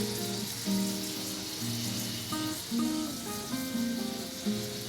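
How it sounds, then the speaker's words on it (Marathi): Cumin and other spices sizzle in hot oil for a Maharashtrian tempering poured over gilka (sponge gourd) bharit, a steady close crackle with brief swells and faint clinks. "आपली ही फोडणी व्यवस्थित तापवायची त्यातले जिन्नस छान फ्राय झाले पाहिजेत"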